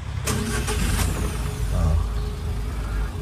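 A truck's engine is primed and started, giving a few sharp hissing bursts over a low, loud idling rumble that settles quietly.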